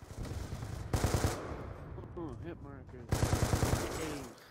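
Rapid automatic gunfire from a shooter video game, two loud bursts at the start and end with a voice talking in the quieter middle stretch.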